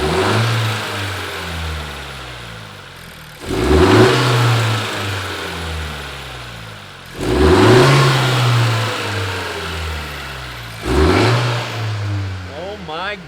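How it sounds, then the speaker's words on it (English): A brand-new 2020 tenth-generation Honda Civic Si fitted with a PRL Cobra race cold air intake revs three times from idle, each moderate throttle blip swelling loud and close before settling back, with brief talk at the end. "All right, first rev. I'm not gonna rev it high because it's brand new,"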